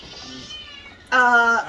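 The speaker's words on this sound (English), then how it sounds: "and then when you're petting her, she meows" A pet cat meows while being petted: two short, bright meows, the first soft and the second louder and longer, close to the listener in a quiet room.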